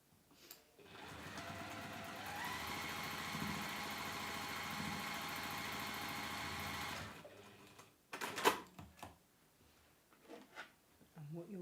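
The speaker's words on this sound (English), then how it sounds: "And then we'll fold there and sew down." A sewing machine stitches down folded fine cotton lawn fabric for a double-sided carry case, running in one steady whirring burst for about six seconds before stopping. Brief handling clatter and rustling follow.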